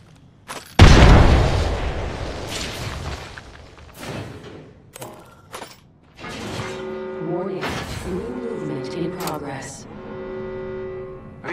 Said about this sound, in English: Frag grenade set.